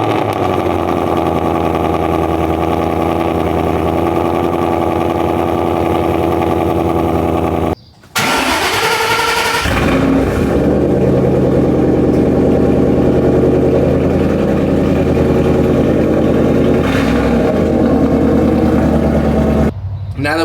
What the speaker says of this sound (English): you're actually going to go ahead and hear the cold start of the Dark Horse